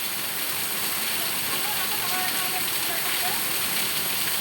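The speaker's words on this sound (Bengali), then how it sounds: "অনেক বৃষ্টি হইতেছে রে।" Heavy Baishakh rain at a temple, a thick, steady roar of falling water, loud and continuous throughout, with a possible faint voice beneath the wash.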